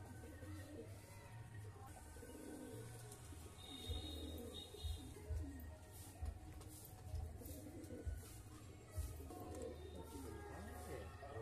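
Old-breed fly-line pigeons coo softly in low, repeated throaty calls beneath someone talking, with a faint background hum.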